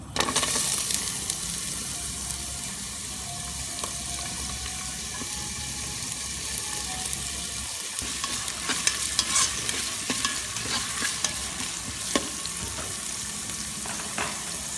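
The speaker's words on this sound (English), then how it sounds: "I have added some oil. I'm going to add in some onion sliced." Sliced onion frying in hot oil in a pan, a steady close sizzle that carries on without a break, with occasional stirring scrapes and clinks, no talk.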